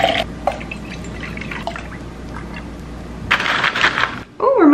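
Green tea is poured into a shaker in short splashing bursts with faint drips, followed by a brighter rush of liquid near the end before a brief clatter.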